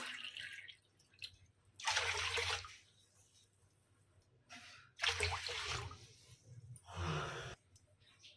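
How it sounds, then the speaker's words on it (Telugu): Water poured from a cup into a pot of soaking moong dal for a Ganesh Chaturthi prasadam, heard as two separate splashing pours of a few seconds each with quiet pauses between. "తర్వాత మనం ఆల్రెడీ 2 కప్స్ వాటర్ వేసుకున్నాం కాబట్టి ఇంకొక 3 కప్స్ వాటర్ వేసుకోండి అదే కప్పుతోటి"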